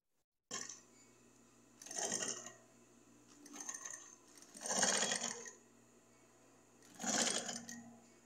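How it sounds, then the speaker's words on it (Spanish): A sewing machine stitches fabric around a 3D face mask in four separate short bursts of whirring, each a second or so long, with quiet pauses between; close and fairly loud. "Ahora vamos a coser todo esto alrededor y después cosemos aquí."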